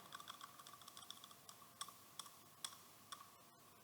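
Keys clicking on a computer keyboard while working in Microsoft Word, a quiet run of light taps with a few sharper, louder strokes standing out, the last near the end, and no talking.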